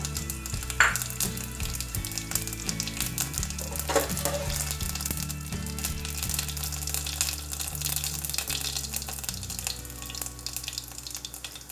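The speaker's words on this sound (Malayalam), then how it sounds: "ഇതിലേക്ക് ജീരകവും ഒരു നുള്ളു കായും ചേർത്ത് കൊടുക്കാം" Cumin seeds and a pinch of asafoetida fry in hot oil in a pressure pan, giving a steady close sizzle with light crackles and a few stirring scrapes throughout, with no talking.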